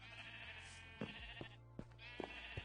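Sheep bleats in a Minecraft-style block-building video game, a few short calls over a steady soft background hum, fairly quiet with no talk.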